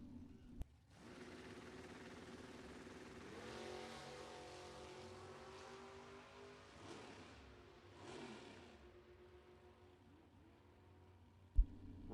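Drag race cars, a '91 Camaro in the left lane and an '86 Buick in the right, at a bracket drag racing event, roar off the line with rising, revving engine sound that swells and fades over a steady background.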